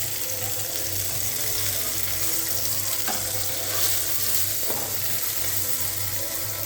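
Fish fries in a pan with a loud, continuous crackling sizzle that stays close and steady, with a couple of faint clinks from turning the pieces.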